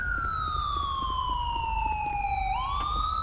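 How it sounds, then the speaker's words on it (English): Police car siren in GTA 5 with the LSPDFR mod, a continuous wailing tone sweeping slowly downward then rising again, steady and moderately loud over low engine rumble, no voices. "I'll move my vehicle because the siren is going to be annoying while we work with this"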